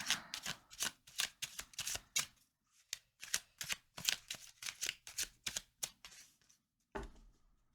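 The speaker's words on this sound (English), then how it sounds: "we're gonna do a little spread and then pull a couple tarot cards afterwards" Tarot and Lenormand cards being shuffled up close, rapid bursts of crisp riffling flicks in quick uneven runs with short pauses, ending in a single soft tap, with no talking.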